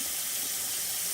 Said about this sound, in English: So we're gonna run some water in here